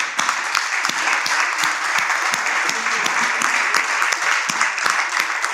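Sustained applause from an audience in a hall, dense and steady throughout with a few individual sharper claps standing out near the listener.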